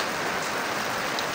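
Rain falls steadily on a house roof and its old, rotting gutters full of holes, making a dense, even hiss with no voices.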